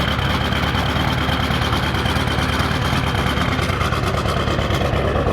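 An old engine idling roughly just after a cold start, a steady loud low rumble with a continuous hissing wash that fills the whole stretch without pause.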